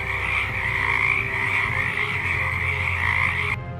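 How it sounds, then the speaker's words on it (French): A dense chorus of frogs croaking continuously, many overlapping calls forming a steady, loud trilling wall of sound with no talking, cutting off abruptly at the end. "Des grenouilles jaillirent des eaux et envahirent chaque maison."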